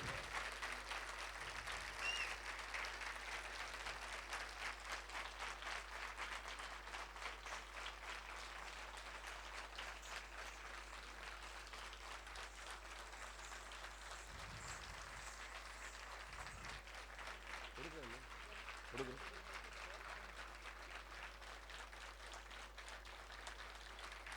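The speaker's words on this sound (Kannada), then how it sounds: "ಎಲ್ಲರೂ ಎದ್ದು ನಿಂತು ಅವ್ರಿಗೆ ಚಪ್ಪಾಳೆ ಹೊಡೆಯೋಣ." An audience applauds at a public gathering, a sustained, dense wash of clapping from many hands that continues evenly at a moderate distance, with faint voices now and then.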